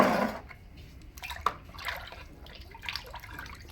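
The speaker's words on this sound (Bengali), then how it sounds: "আমি হাতটা ধুয়েও দেখাচ্ছি আপনাকে।" Hands rinsed under running tap water at a sink after handling sticky jackfruit, a short spell of splashing and dripping with a brief louder burst at the start, close and fairly quiet.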